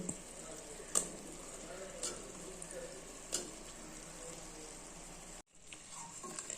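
Chicken sizzles steadily in hot oil with mint and coriander for a chicken biryani, with a few sharp utensil taps against the pot and a brief break near the end.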